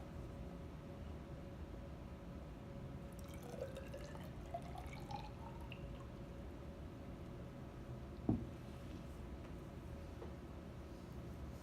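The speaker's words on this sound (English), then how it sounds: "I'm going to put water that I have here in a large cup" Water pours into a large cup in a lab, a faint steady trickle with rising tone as it fills over a hissing background, ending with a small knock.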